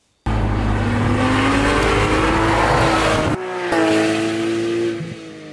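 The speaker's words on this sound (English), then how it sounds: "oh my God, your car sounds amazing. What exhaust has it got on it?" A Porsche 911 GT3 with its stock exhaust revs hard and loud up close, its pitch climbing. After a brief cut it revs again, then settles.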